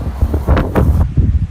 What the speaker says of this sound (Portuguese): O problema é o vento, né?